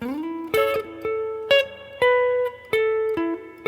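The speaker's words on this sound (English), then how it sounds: "Alright, here's the first phrase." Opening phrase of a guitar solo from the 7/30/77 show, played alone on electric guitar as a string of sustained, clearly picked notes with slides and bends in a steady, close, moderately loud line.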